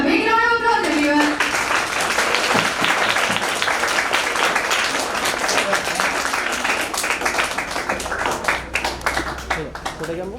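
Many hands clap loudly and steadily for a student President and Vice President at a school ceremony, a full burst of audience applause lasting most of ten seconds, with a brief spoken voice at the very start and thinning claps near the end.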